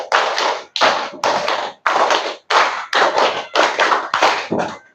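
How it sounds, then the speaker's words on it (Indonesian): A class of children clap hands together in a rhythmic pattern, eight sharp bursts of clapping in quick succession with short gaps between, loud and near, with no talking. "tepuk tangan buat kelas Imam Maliki"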